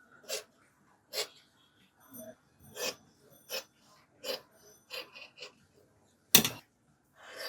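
Scissors cutting school uniform shirt fabric along a marked line, heard as short, close, crisp snips and rustles at an irregular pace with gaps between them.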